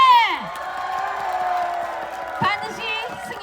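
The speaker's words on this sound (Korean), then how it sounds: "여러분 끊임없는 박수와 함성 주시면 고맙겠습니다" Crowd at a presidential campaign rally in COEX cheering and shouting in loud, sustained waves, with voices whooping over a constant roar and a burst of louder shouts partway through.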